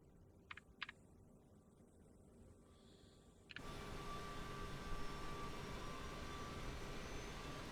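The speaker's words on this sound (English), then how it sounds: "APU coming alive." Auxiliary power unit of a CRJ700 airliner in Microsoft Flight Simulator 2020 spooling up: a few soft clicks over a quiet hum, then an abrupt rise into a steady, louder broadband whine and roar that holds to the end.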